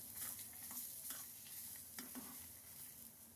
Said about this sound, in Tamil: கொஞ்சம் தேங்காய் போட்டுக்கிறேன். நல்லா வறுத்துக்கலாம்.